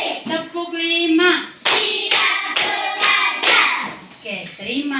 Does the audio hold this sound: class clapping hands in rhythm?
yes